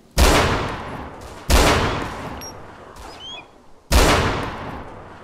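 Three loud rifle shots from the game DayZ ring out at a steady spacing, each a sharp blast with a long fading echo tail, alone, with faint bird-like chirps between them.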